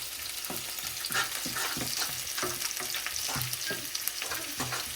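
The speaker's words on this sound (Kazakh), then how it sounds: "Söйтіп қуырып" Onions and vegetables fry steadily in a pan for stuffed cabbage rolls. The sizzle is continuous, with rhythmic stirring scrapes, close up and without talking.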